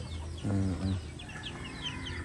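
Chickens cluck in a coop where birds are fighting, a short burst of throaty clucks in the middle over a steady background of distant bird chirps.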